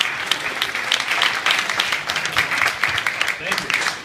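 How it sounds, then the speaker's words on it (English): Audience applause at a Moth storytelling show at the Hard Rock Cafe, a steady dense patter of many hands clapping throughout, with a voice or cheers mixed in over it. "him a big round of applause."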